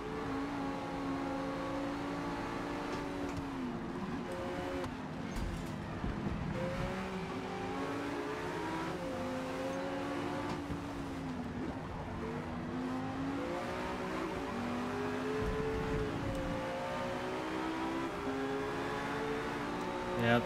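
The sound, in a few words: Ferrari race car accelerating in a racing video game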